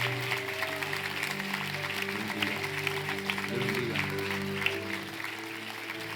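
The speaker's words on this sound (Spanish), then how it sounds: "Iglesia, dé el aplauso más fuerte a todos los que vienen." A church congregation applauds loudly and steadily throughout, with sustained musical tones ringing beneath the clapping and a voice speaking briefly over it.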